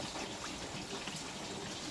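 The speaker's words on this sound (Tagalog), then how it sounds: "Dagdag tayo ng kaunting tubig." A little water added to escabeche sauce: a steady, close pour of liquid lasting under two seconds, with no voices.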